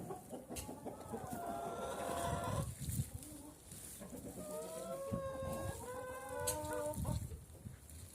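Chickens cluck and call in a busy barnyard chorus, with a few drawn-out squawks rising above the steady clucking.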